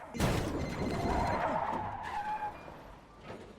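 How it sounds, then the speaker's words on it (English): A truck skids on a road and hits a deer, a film scene: a sharp impact thump, then a sustained skidding screech with rumble that fades over a few seconds, close and fairly loud. "he suddenly runs over a deer on the road"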